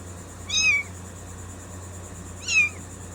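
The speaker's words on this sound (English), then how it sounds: "Oh, hi kittens." Two short, clear kitten meows about two seconds apart, close and alone over a faint steady hum; the kittens were found in the trash.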